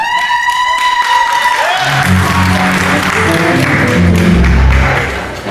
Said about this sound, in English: So you can clap as much as you want.